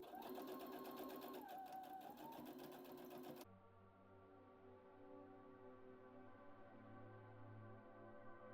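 A sewing machine stitches jacket pockets in a fast, even mechanical chatter, then halts and leaves a low steady motor hum.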